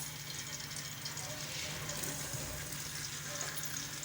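Chopped onions frying in hot oil inside a pressure cooker, a steady dense sizzle that holds evenly, fairly quiet, with a low hum beneath it.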